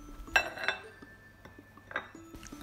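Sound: mixing butter into crumb mixture with a fork

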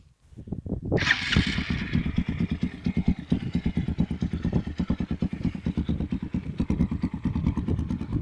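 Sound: Zongshen ZS 200 GY motorcycle engine running

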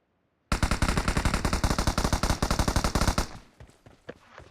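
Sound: gunfire in the video game PUBG

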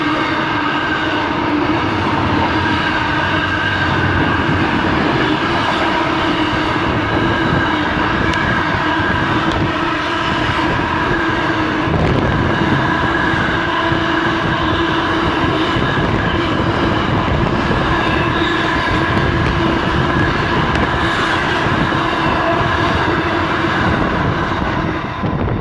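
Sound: coal train passing

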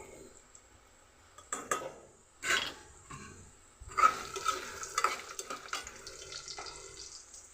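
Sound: garlic and cumin frying in hot oil

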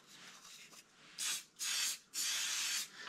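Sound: spraying accelerator on wood

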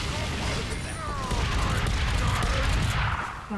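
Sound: gunfire in Team Fortress 2 Mann vs. Machine video game

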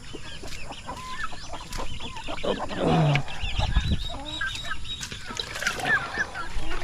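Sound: thirsty chickens and chicks clucking

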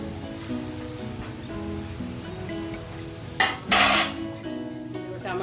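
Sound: adding cauliflower, coriander, curry leaves to shrimp curry pan

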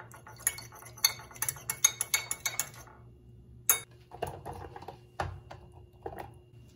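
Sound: stirring cornstarch into water to dissolve

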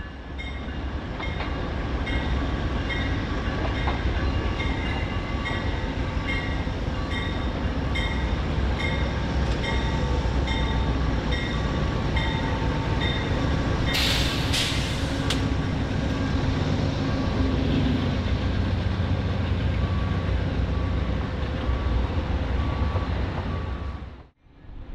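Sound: Amtrak Lake Shore Limited passenger train passing

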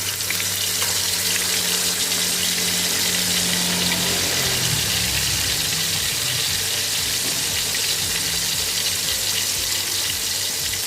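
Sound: salted fish frying in hot oil

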